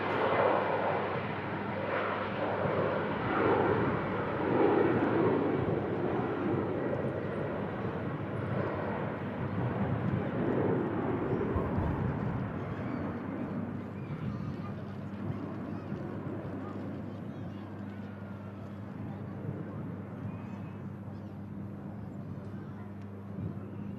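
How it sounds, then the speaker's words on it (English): A business jet descending to touch down at an airport, its engine roar loud and broad at first, then slowly fading as the aircraft passes and rolls out, with a steady hum underneath. "BizJet about to touch down."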